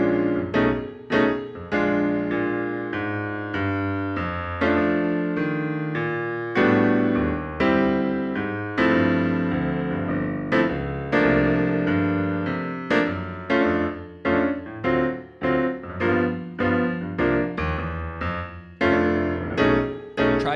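Solo piano works through a blues progression from the four chord with reharmonized chords and a turnaround, sustained chords and melodic runs played steadily and moderately loud with no talking.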